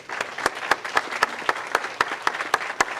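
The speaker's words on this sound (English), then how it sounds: "Let's give everybody a round of applause tonight." Audience at a school board candidates forum claps together in a steady, dense round of applause with sharp individual claps standing out, fairly close and loud, with no talking over it.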